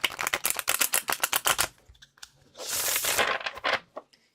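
Light Seers tarot cards being shuffled face up by hand, a rapid run of crisp riffling snaps followed by a softer sliding, rustling bridge of the deck, close and with no talking.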